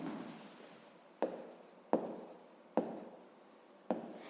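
Handwriting with a pen on paper during a fifth-grade math exercise, a close, quiet scratching broken by four sharp taps spaced about a second apart, no voices.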